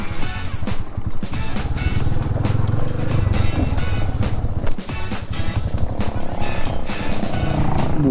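A Classic 250 motorcycle is ridden off-road near Magat Dam, its engine a loud, continuous low thrum with rapid pulsing that swells and dips as it goes, wind buffeting throughout.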